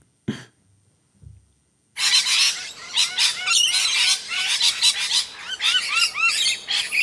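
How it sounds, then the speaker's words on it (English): Parakeets or parrots squawk and chirp in a dense, loud flurry while fighting over food, preceded by a brief cough-like sound and quiet gap. "Sounds like some type of bird."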